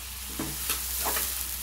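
Onion pieces and green chilies frying in a pan for an egg curry, a steady sizzle with a few soft scrapes of stirring close by, no voices.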